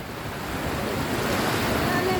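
Sea waves washing onto a beach where a small child is out swimming, a broad continuous roar of surf mixed with wind buffeting the microphone, steady and close throughout.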